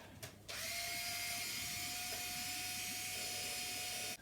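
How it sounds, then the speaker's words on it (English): A power screwdriver runs steadily on the screws of a Cybex Priam stroller panel, giving a loud, continuous whine after a brief start, with no talk. "But if you remove these 4 screws"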